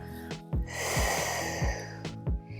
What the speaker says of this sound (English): We take an inhale through the nose and that little exhale through pursed lips through the mouth.